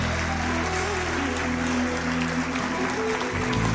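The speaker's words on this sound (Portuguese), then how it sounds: "Dê o seu melhor aplauso para Jesus" A church congregation applauds steadily and loudly at a worship service, with the dense clapping sustained for about four seconds over faint background music.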